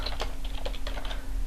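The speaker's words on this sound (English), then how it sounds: "as I type" Rapid, close typing on a computer keyboard: a quick run of crisp key clicks at an uneven rhythm over a faint steady hum.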